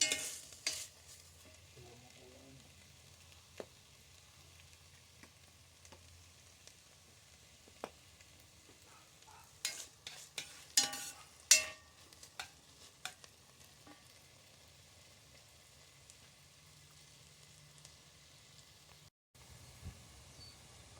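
Onions, green peppers and garlic sauté for chili in a pan with a faint, low sizzle. Occasional scrapes and clatters of stirring come through, with a brief cluster of louder knocks midway.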